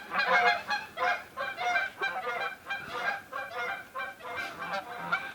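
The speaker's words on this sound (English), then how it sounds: "if you've got 2 geese, one will always be yelling at the other, one will be chasing the other away" Two or more geese honk loudly and repeatedly at close range, harsh overlapping calls coming in rapid bursts as they squabble and chase each other, with no talking.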